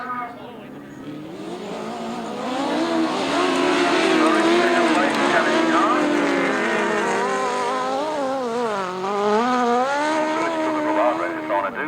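Grasstrack motorcycles racing round the track at the 2004 Biddenden Bandit meeting, engines droning and rising and falling in pitch as they pass, loud and sustained throughout, with a commentator talking over the noise.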